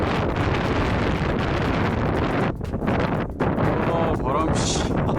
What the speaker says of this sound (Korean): 와, 근데 또 바람이